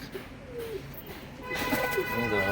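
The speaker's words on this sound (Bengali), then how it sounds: "এই যে দেখুন বন্ধুরা পায়রাগুলো" Pigeons coo softly with low, throaty calls inside an indoor loft where birds sit on eggs, partly under a voice nearby.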